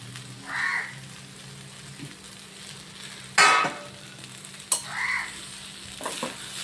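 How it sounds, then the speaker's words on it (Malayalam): Ivy gourd stir-fried with grated coconut in a pan gives a soft sizzle, with a loud stirring scrape, a sharp utensil knock, and a couple of lighter clinks, no voices. "നല്ലതുപോലെ ഇളക്കി കൊടുക്കാം"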